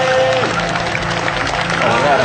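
A crowd at a pickup-truck drift show applauding in a dense, continuous wash, heard under a loud announcer talking over a PA, with engine noise in the mix.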